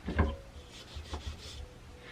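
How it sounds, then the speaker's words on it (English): A pocket knife blade scrapes sticker residue off a hatchet clamped to a work desk, giving a few short, dry rubbing strokes at close range with no talk. "after kind of yanking this sticker off here a little bit, I'm going to scrape the rest of it here."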